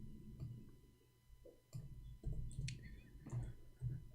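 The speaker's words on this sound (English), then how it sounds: "Oops, I'm typing in English again." Irregular keypresses tap and click in uneven clusters with short pauses between them, fairly close and moderately loud, with no voices present.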